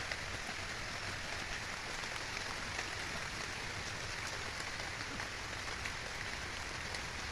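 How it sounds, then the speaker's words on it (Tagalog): Steady, heavy rain pours down continuously on a rural banana plantation, a dense broadband hiss of drops drumming on surfaces with no pauses. "malakas ang ulan. Tago muna tayo. Lakas ng ulan guys. Ulan na."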